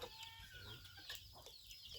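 Chickens and chicks cluck softly and continuously at a farmyard in Thailand, with short, overlapping clucks and peeps heard close by and quiet.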